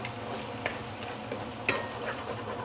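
Noodles and egg for fried mee are stirred in a hot pan under a constant sizzle, with a couple of sharp utensil scrapes against the metal.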